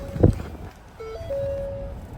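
A 2014 Ford Flex SEL sounds an electronic chime signalling the engine is running: a steady tone that steps up briefly, then holds for about a second, after a short thump and over quiet cabin hum.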